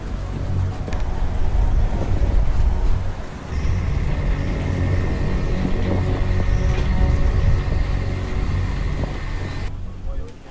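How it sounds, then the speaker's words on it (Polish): Strong wind of an approaching storm front roars steadily at a harbour on Naxos, buffeting the microphone with loud, gusty rumble that dips briefly and then swells again. "Wiatr z każdą chwilą był silniejszy."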